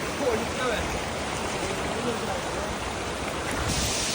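Clear stream water rushes steadily in a continuous, even hiss, close by and fairly soft, with no talk over it.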